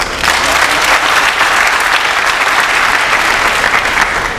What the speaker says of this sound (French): Il faudrait aussi qu'on l'applaudisse.